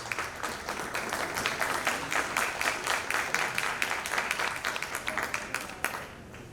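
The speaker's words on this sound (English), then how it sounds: "a round of applause for her years of service" A round of applause from a modest crowd at an advisory board meeting, steady brisk clapping for several seconds that tapers off at the end, heard at moderate distance.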